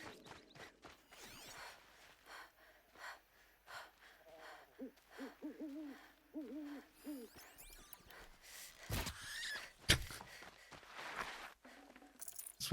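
An owl hoots in the video game Horizon Zero Dawn, a short run of soft, wavering calls at moderate distance over quiet in-game ambience and scattered footsteps.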